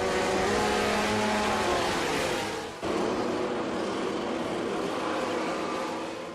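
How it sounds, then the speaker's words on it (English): A racing motorcycle engine is held at about mid revs on the start grid of a race track, a loud, continuous buzzing drone that dips briefly partway through before resuming steadily. "Bringing the revs up to about midway for the start, some racers blip the throttle"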